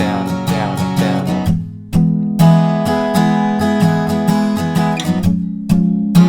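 An acoustic guitar strums the bridge chords of a song, a clear, close run of rhythmic strokes with a few short breaks between chord changes.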